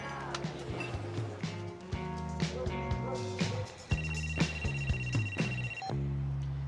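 A telephone rings repeatedly and goes unanswered, its bell tone repeating at a steady pace over a busy music and sound bed, with no one speaking.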